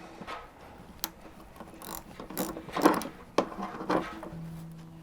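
Ratchet tightening bolts on a Metalcloak taillight on a Jeep TJ: quick bursts of clicking ratchet strokes with metallic clacks and handling noise, close and fairly loud, coming in irregular short runs.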